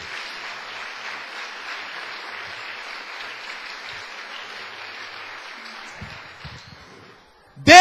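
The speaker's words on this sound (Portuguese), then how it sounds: "Uma salva de palmas pela sua vida." A church congregation claps together during a Sunday sermon, producing a sustained, dense wash of applause that holds steady for several seconds, then thins and fades before a brief loud burst at the very end.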